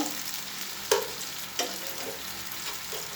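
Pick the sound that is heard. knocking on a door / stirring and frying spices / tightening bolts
stirring and frying spices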